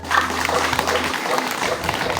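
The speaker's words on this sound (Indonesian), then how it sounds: "Tepuk tangan untuk beliau" An audience claps for a speaker at a gathering: loud, dense applause, with a voice and a low electrical hum running underneath.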